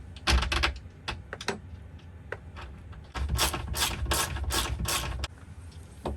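A bolt and nut are fastened through aluminium on a bulkhead for an Iveco Daily campervan build, with close, quick ratcheting clicks in two bursts separated by a short pause.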